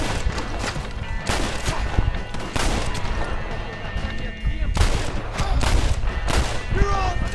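Rapid, overlapping gunshots and bursts in a shooter video game set in the Mexican desert, loud and close throughout, with a voice talking over the barrage.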